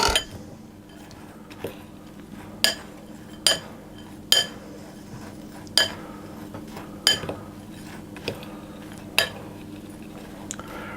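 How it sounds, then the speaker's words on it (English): Pecans dropping into a mixing bowl for caramel slice squares, giving a series of sharp, separate clinks spaced irregularly over a low, steady kitchen hum. "I'm going to add the pecans in too."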